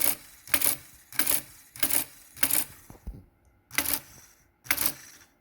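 A Monroe CSA-10 mechanical calculator runs non-repeat addition: a series of sharp, loud mechanical clacking cycles in a steady rhythm with one short pause, close and isolated with no talk.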